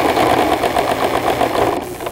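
A sewing machine runs steadily while stitching over a seam, making a dense, continuous whirring buzz that stays loud and even for the whole stretch with no talking.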